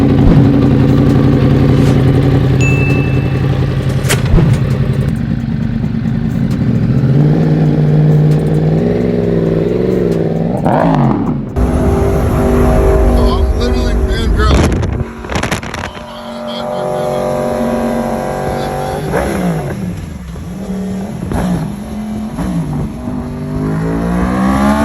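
A Yamaha R1 motorcycle engine cold starts and idles roughly, then is revved in rising and falling sweeps, loud and close. Brief voices and handling noises come between the revs.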